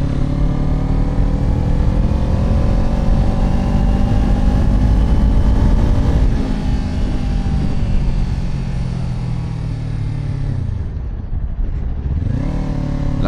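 A Kawasaki Ninja 250 ABS motorcycle with a rusty chain drones steadily while riding to Genting Highlands, its pitch rising and falling with throttle changes and gear shifts, loud and close.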